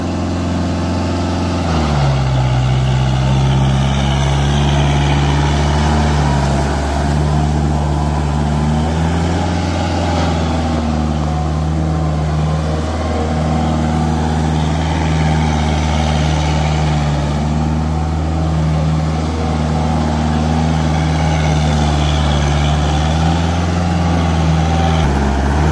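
A Kubota 4501 4x4 tractor engine runs loud and close, a steady low diesel drone whose pitch drops early on and then holds evenly throughout.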